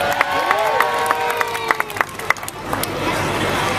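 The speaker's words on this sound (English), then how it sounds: "this audience is going to give you a real big round of applause." An audience at a live alligator-catching show cheers and claps with whoops and shouts rising over crowd chatter, scattered sharp claps standing out, then settling into a general murmur.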